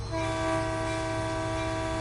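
A locomotive horn sounds as a train nears a railroad crossing in the Train Sim World 3 simulation on the Peninsula Corridor, one loud sustained chord blowing continuously over low rumbling engine noise.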